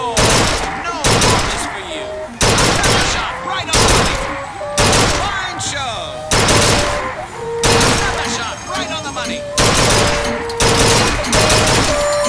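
Gunfire at a shooting gallery in BioShock Infinite: loud bursts of rapid shots repeating in clusters across the whole stretch, with game voices talking between them.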